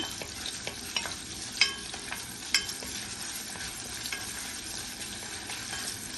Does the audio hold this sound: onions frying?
yes